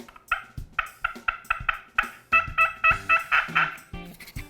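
An easy Yelper turkey call is played in a run of about a dozen sharp, evenly spaced yelps, the notes growing louder and closer together toward the end before a final short pair, with no talking.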